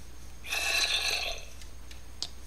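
A sheep bleats in the video game Minecraft, a single loud, drawn-out nasal cry close by that fades after about a second, followed by a couple of faint clicks.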